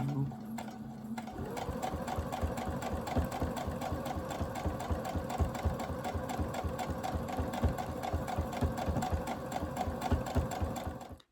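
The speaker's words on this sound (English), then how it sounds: "following your line and sewing straight down" A sewing machine quilting layers of fabric and batting for a patchwork tote, its needle hammering in a fast, even mechanical rhythm, loud and close, running steadily before stopping at the end.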